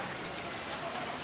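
Steady rain falls outdoors while people wait in a downpour, making a dense, even hiss with no clear gaps.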